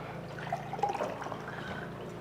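A drink poured into a glass in a Nigerian home drama scene, a short continuous liquid trickle and splash close to the microphone, alone without speech.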